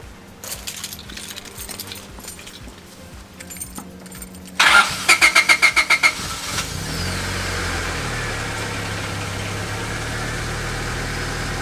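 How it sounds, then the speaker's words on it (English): A Honda Civic EK coupe engine cranks with a rapid stuttering starter whir, catches, bogs briefly, then settles into a steady idle, heard close and alone. "as I was starting the car, it bogged a bit"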